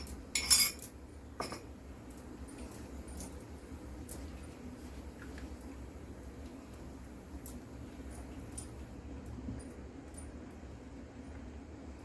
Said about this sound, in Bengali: নাড়তে থাকতে হবে কিন্তু, না হলে ওটা জমে যাবে।